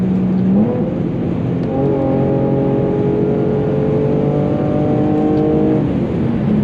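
An Infiniti G37 engine with loud exhaust revs up hard in a rev match, its pitch climbing and holding at a high whine before dropping back, loud and close with steady mechanical roar.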